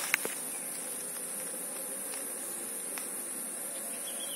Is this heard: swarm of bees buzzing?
yes